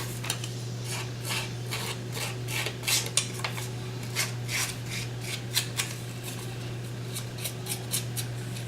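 Scissors snip through a paper piece for an altered vintage toy telephone, a run of short crisp cuts in uneven rhythm over a steady low electrical hum, close and fairly quiet.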